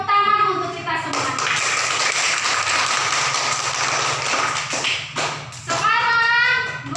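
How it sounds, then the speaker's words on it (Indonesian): Children in a classroom clap together, a loud steady burst of hand claps between stretches of voices at the start and end. "tepuk tangan untuk kita semua"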